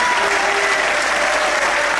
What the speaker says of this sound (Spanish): quiero que le brindemos un fuerte aplauso a él.